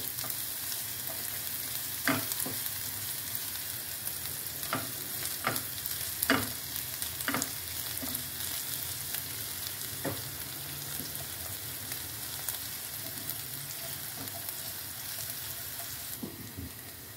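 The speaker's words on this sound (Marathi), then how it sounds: "तो छोटा ब्राऊन होईस्तो भाजून घ्यायचा." Onion frying in a pan with cumin seeds, stirred now and then: a soft, steady sizzle runs throughout, broken by occasional scraping taps of a spoon, fairly quiet with no talk.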